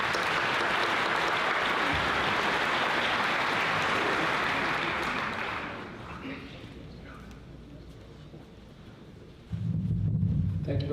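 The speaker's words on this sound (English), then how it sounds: "How about a nice round of applause for Mr. Brown?" An audience at the East Islip Middle School moving-up ceremony claps loudly and steadily, a dense wash of applause that fades out after about five seconds, leaving quieter room sound before a louder burst near the end.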